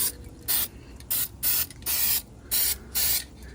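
Aerosol spray hissing in a series of short bursts, about seven quick sprays with brief pauses between, close and fairly loud, coating a corroded Sea-Doo engine.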